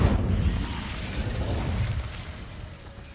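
An Incendio fire spell cast in Hogwarts Legacy, a loud roaring burst of flame that starts strongly and slowly fades over a few seconds.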